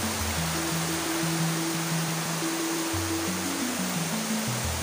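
Kandungos Falls waterfall roaring with a steady, dense broadband rush of falling water, loud and continuous throughout, with low droning tones layered underneath and no voices.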